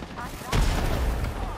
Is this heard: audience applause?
no